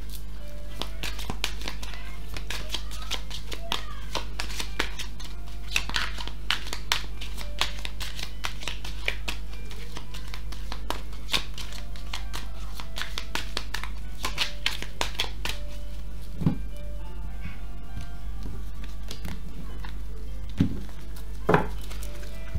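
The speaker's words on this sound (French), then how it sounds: "je mélange les cartes et on procède au tirage" Tarot cards shuffled by hand: a long stretch of rapid, dry flicking and riffling clicks in repeated bursts, close and clear over a low steady hum, with a few sharper taps near the end.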